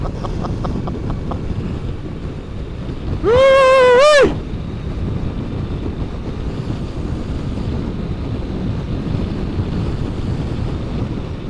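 A Kawasaki H2 SX SE motorcycle cruises at highway speed with steady, roaring wind buffeting and a low rumble, broken once by a short, loud whining tone that rises and falls before fading.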